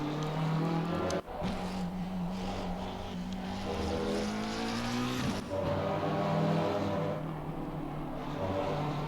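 Porsche race car engine in a racing video game at Laguna Seca, a loud droning whine rising and falling through gear changes with sharp shift cuts, close and continuous.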